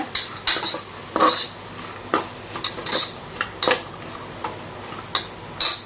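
Metal utensil clinks and scrapes against a pot of kodo millet sambar rice with turmeric, at irregular intervals, close by, with no talking.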